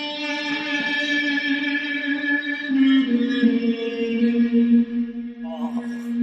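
A recorded person hums a sustained, mournful tune with a rich stack of harmonics, a Syrinscape sound played back with reverberant, echoing tails, fairly loud and alone, the pitch shifting a few times.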